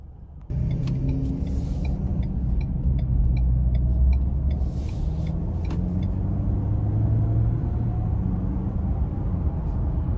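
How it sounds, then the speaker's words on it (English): Steady low rumble of a 2021 Ford Edge SEL with its 2.0-liter turbo engine cruising on the road, broadband road and engine noise with faint ticking above, no talking. "next we're gonna go ahead and take this Edge SEL out on the road for a quick test drive."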